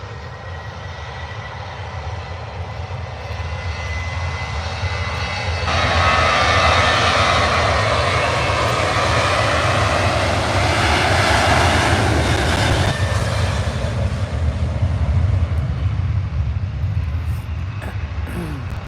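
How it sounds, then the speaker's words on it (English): A Ryanair Boeing 737 MAX jet at Manchester Airport roars steadily for the whole stretch, its engine noise swelling louder from about a third of the way in and holding before easing slightly, with no voices. "Ryanair 737 MAX going on their holly bags"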